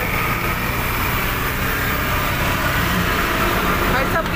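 An auto-rickshaw engine runs steadily close by in a constant rough drone, with a voice talking over it.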